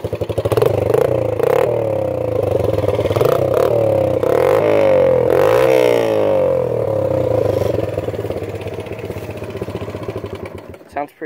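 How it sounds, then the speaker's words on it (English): A 1985 Yamaha Moto 4 80cc ATV engine revving up and down several times, its pitch rising and falling in sweeps over a rattly idle, close and loud, before shutting off. "I'll rev it up, so you can hear how it sounds."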